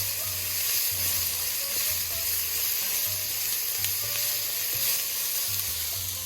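Carrots, onion and a garlic clove frying in a pan, giving a steady close sizzle with occasional stirring scrapes and no talk.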